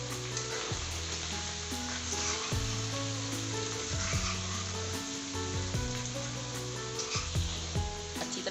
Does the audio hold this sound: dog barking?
no